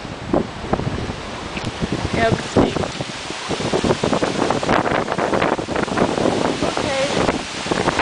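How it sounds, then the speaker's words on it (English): Strong wind blows steadily outdoors near the sand, buffeting the microphone with rough gusts and rustling leaves throughout, while someone talks briefly over it. "Really windy."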